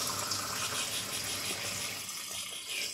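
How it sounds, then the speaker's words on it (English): Water gushes steadily from a tap as hands are washed, a loud, close, continuous splashing stream with no voices. "And you gotta wash your hands"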